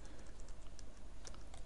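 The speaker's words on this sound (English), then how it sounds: "then you hit Ctrl R on your keyboard for a repeat" Keys tapped on a computer keyboard during a design task, a quick, quiet run of clicks in an even rhythm with no talking.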